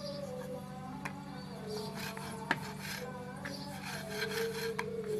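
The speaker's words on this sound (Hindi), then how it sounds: "इस तरह हमने एक पेड़ा लिया है, इसको अच्छी तरह से बेल लेंगे, पूड़ी तैयार कर लेंगे।" A rolling pin works a small puri dough ball flat, producing soft, quiet rubbing and rolling scrapes on a board with a few light wooden knocks, close and low in volume.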